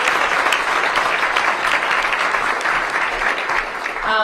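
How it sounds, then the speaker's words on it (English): A crowd inside a downtown DC public library applauds the city's Chief Financial Officer at a mayor's budget event, with dense, steady clapping that carries loudly through the whole stretch. "Give Glenn Lee a big round of applause"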